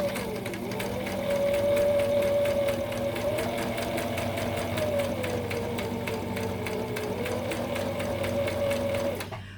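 Sewing machine stitching the curved seam of a fabric face mask, a steady close mechanical whir held for about nine seconds before stopping, with no talking.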